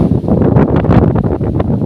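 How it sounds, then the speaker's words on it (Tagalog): Loud, steady wind buffeting the microphone while climbing a mountain, with constant low rumbling gusts and no voices. "Lakas ng hangin."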